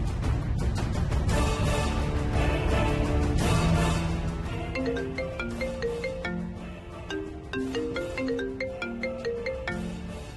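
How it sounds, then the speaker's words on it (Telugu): An incoming call sets off a mobile phone ringtone in a Telugu TV serial scene. A loud, dense musical burst opens, then a bright melodic tone pattern repeats steadily for several seconds with no talking. "వరాలు ఫోన్ చేస్తుందేంటి?"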